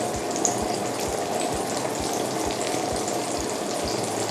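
Food drops into hot oil and fries with a steady, close, dense sizzle and crackle, a few soft pops showing through the continuous bubbling, with no talk.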